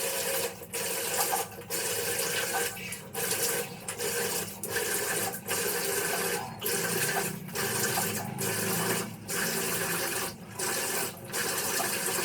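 A tap runs steadily and close while someone washes their face, a continuous hiss of water broken by short regular dips where hands pass through the stream.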